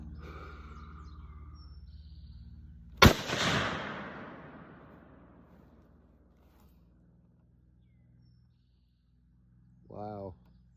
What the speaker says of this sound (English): I'm gonna take another shot.